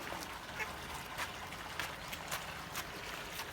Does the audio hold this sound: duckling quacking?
yes